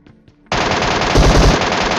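MK14 rifle fire in a battle royale game set around Georgopol, a sudden loud burst of rapid automatic shots starting after a quiet moment and continuing steadily with heavier punches midway.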